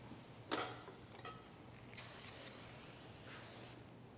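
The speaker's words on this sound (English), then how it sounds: "I'm gonna spray each section with hairspray before I curl it" A short spray burst, then a longer steady hiss of hairspray from an aerosol can, fairly quiet and close.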